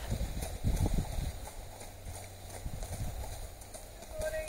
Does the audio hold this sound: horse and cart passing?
yes